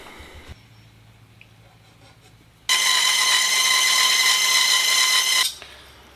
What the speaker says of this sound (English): I just have to cut off a chunk that's 2 13/16 inch long, and I'm going to do that in the bandsaw